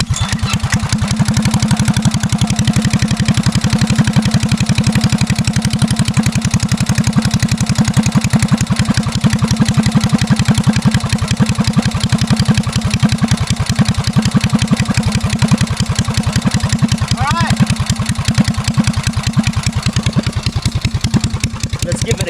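A restored Hornet mini bike's flathead engine is already running, a loud, close, rapid putter that holds a steady idle-like rhythm for the whole stretch with no voices over it.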